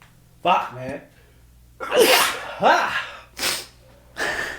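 A man sneezes sharply at close range, then swears and breathes heavily as a few more sneezes and snorts follow during a casual conversation about TV shows.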